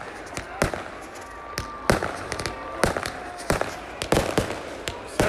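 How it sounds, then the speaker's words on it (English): Saturday night fireworks with small cannons being lit at a drag racing event in St Thomas, a string of sharp loud bangs and cracks at irregular intervals, some close together, with voices in the background. "Saturday night fireworks."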